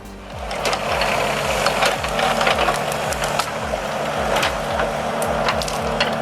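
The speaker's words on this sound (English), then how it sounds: "The Valtra Forestry tractor is absolutely dominating these wet," A Valtra forestry tractor works through wet, slippery muck, its engine a steady rumbling drone with rhythmic low pulsing, overlaid by scattered crackles and knocks, fairly loud and continuous without speech.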